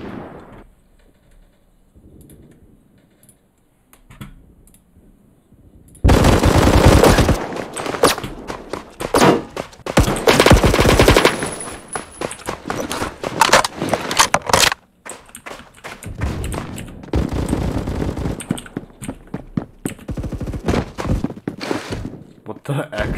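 Video game gunfire after a weapon switch: loud, dense bursts of rapid shots in clusters, broken by short pauses and quieter stretches, beginning after a near-silent opening.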